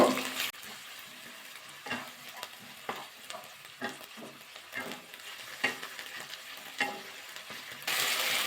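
Ginger paste and tomato with salt stir-fried in a pan for a kohlrabi and egg curry: a steady close sizzle with repeated scraping strokes of a spatula at an even rhythm, and no voices.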